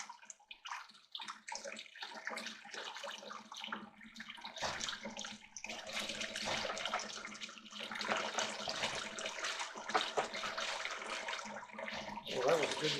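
Water washing gold flakes out of a gold pan, a steady rush of running, splashing water that swells louder partway through and continues without talk.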